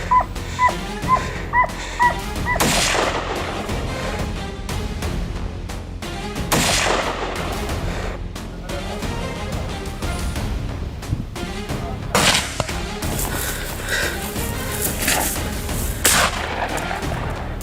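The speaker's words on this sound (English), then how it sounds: "A well-placed shot dropped the lead animal, scattering the rest into the brush." Gunfire during a wild hog hunt in Arkansas brush, several sharp loud shots cracking at irregular intervals over a busy outdoor background with barking dogs and faint voices.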